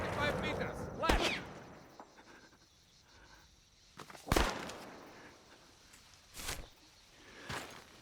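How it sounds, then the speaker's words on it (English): Gunfire in the Arma 3 video game, heard as several sharp, widely spaced shots, some near and loud, others fainter, with quieter gaps between them. "I'm definitely receiving fire from somewhere."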